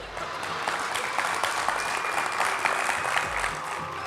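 A television comedy-show audience claps in a dense, continuous burst of applause, steady and fairly loud for a few seconds with no talking over it.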